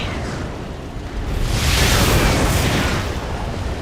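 An energy blast explosion in a video game, a loud sustained roaring burst that builds and peaks midway before easing into a lingering rumble, with no speech.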